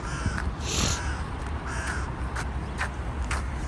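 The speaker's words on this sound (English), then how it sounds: "And of course, crows are here." Crows caw repeatedly at a distance over a rough outdoor background rumble on Trinity Bridge in Saint Petersburg, several harsh calls spread across the moment.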